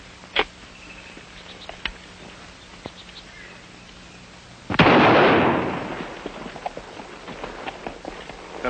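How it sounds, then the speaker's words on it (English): A single shotgun blast booms out at a distance in rough outdoor country, a broad rumbling report that fades slowly after scattered small clicks and taps. "That was a shotgun."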